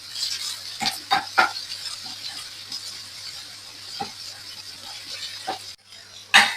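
Chili powder being stirred into boiled chickpeas in a pan, heard as soft scraping and scattered light clinks of a spoon over a steady low hum, with a sharper clatter near the end.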